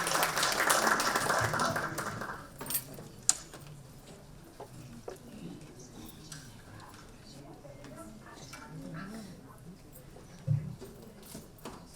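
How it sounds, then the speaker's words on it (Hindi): At an awards ceremony, the Sant Eshwer Samman 2025, an audience claps to welcome guests on stage. The burst of applause fills the first two seconds, then dies away to scattered claps as a voice speaks over the hall. "जोरदार तालियों से आप लोग इनका स्वागत करेंगे।"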